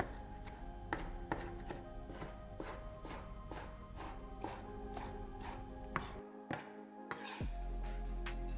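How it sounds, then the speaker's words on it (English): Tomatoes cut into small cubes with a knife, a run of crisp, evenly paced chops on a board close by, followed by a brief pause and a steady hum of kitchen noise. "You can use any kind of tomatoes like cherry tomatoes. Cut it into small cubes."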